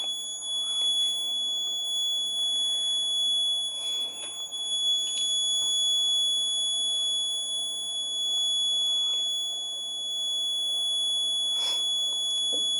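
A steady high-pitched alarm from a Raspberry Pi Pico alcohol detector with an MQ-3 sensor buzzes continuously over faint background hum, with a few brief bleeps mixed in.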